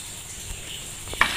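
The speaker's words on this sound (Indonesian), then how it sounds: "kita sedang goreng tahu untuk campuran gulai ikan" Tofu pieces frying in hot oil for a fish gulai, giving a steady close sizzle with a brief sharper crackle near the end.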